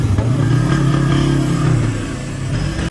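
A Suzuki Raider 150 carburetted 2022 motorcycle engine runs close by with a steady mid-pitched throb that eases off slightly toward the end before a sharp clunk.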